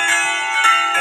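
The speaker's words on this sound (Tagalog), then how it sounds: "kumakalampag na yung kampana" The bell of San Pablo Parish Church in Tondo, Manila rings loud and close, with bright metallic strikes whose tones overlap and sustain through the whole moment.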